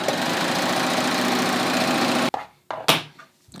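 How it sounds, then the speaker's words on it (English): A serger overlock machine runs steadily at speed, chaining off thread after sewing a yoga pants waistband, a loud, even mechanical whir close by that stops abruptly, leaving a few faint handling clicks. "Then I'm going to put my presser foot back down and I'm going to chain off."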